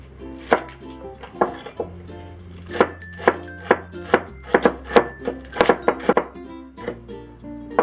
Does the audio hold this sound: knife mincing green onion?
yes